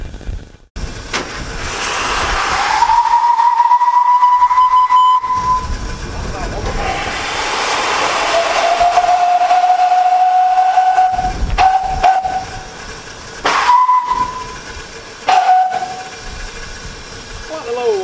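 Steam whistle of the Welsh Pony locomotive, blown in several long sustained blasts with hissing steam between them, loud and close, followed by shorter toots near the end.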